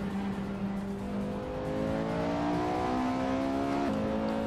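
A race car engine in the iRacing sim game revs in a loud, steady whine that climbs gradually in pitch, then drops abruptly near the end as it shifts or backs off.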